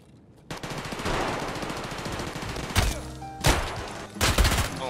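Gunfire in Escape From Tarkov, with sustained automatic bursts giving way to several sharp, loud single shots near the end.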